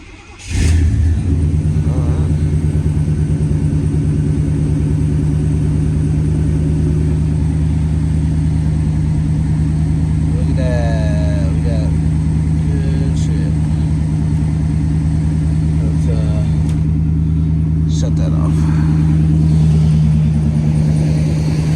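Chevy K1500 farm truck with new spark plug wires cranks and fires up near the microphone, then settles into a steady, loud mid-pitched idle with a slight rev and faint rattles over about twenty seconds.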